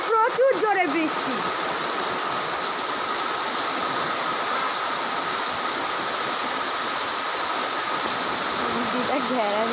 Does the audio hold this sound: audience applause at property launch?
no